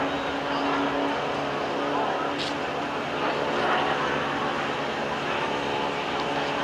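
A NASCAR stock car engine roars from Mark Martin's in-car camera at the 1992 Hooters 500 at Atlanta Motor Speedway, a loud, steady, dense drone that fills the whole stretch with no break.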